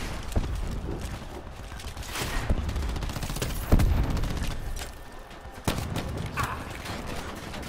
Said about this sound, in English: He's trying to shoot through walls and stuff.